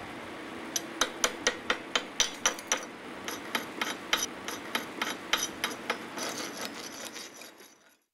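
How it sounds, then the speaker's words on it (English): Slag being chipped off a weld bead on a ship's steel plate, a quick series of sharp metallic taps in an uneven rhythm, close and fairly quiet, with no voices. "Once the bead has been deposited, remove the slag and examine the bead's appearance."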